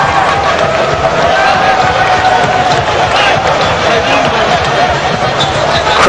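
Crowd noise at a Twenty20 cricket match between Canada and Zimbabwe, a steady wash of spectators cheering and murmuring throughout, loud and continuous with no single burst standing out.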